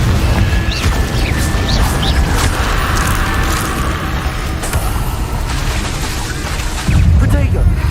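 Confringo blasting spell explosions in Hogwarts Legacy, with dense booming combat blasts and crashes running continuously at high level, alongside other in-game battle effects.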